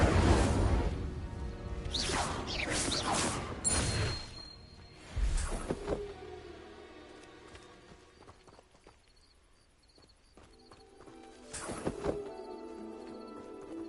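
Incendio fire spells cast in the Hogwarts Legacy video game: several sharp whooshing bursts with crackling flare-ups, the loudest early on, then quieter gaps and a final burst, over low game ambience.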